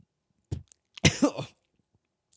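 Two short throat-clearing coughs from someone with something stuck in the throat, followed by a louder, rougher cough-like burst, close and alone with no talk.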